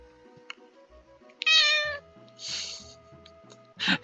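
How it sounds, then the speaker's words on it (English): An American shorthair tortoiseshell cat meows three times, the first long and loud, the others shorter, close by over a soft, steady game-music backdrop. "she's a cute little kitty. She's a tortoiseshell, specifically. An American short-haired tortoiseshell."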